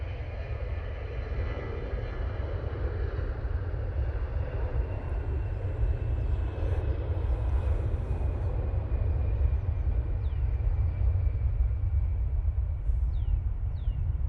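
Jet airliners taking off at Manchester Airport in low visibility: a steady, distant, rumbling engine roar that holds evenly throughout.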